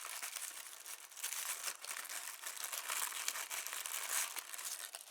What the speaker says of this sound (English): It's interesting that they're wrapped in tissue paper.